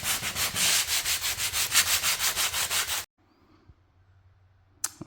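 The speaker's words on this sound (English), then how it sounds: "I'm gonna hit it with this 60 grit and then the 220. I'm gonna use this as a little sanding block" Wood is hand-sanded with 60 grit sandpaper wrapped around a small sanding block: close, steady back-and-forth scraping strokes in a quick even rhythm for about three seconds. Then it goes nearly silent, with a brief knock at the end.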